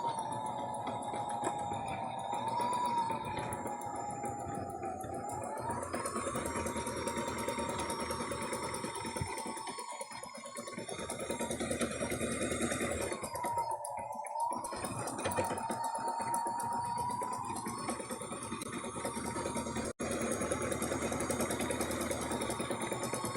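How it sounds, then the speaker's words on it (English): Sewing machine hemming a cotton t-shirt with back stitching at the seam ends, a steady mechanical whir running nearly the whole time with a couple of brief pauses, close and fairly loud. "We're going to back stitch at the beginning and the end of all of our seams"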